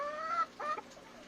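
An Ayam Cemani chicken gives two short clucking calls, close and fairly clear, with a brief pause between them.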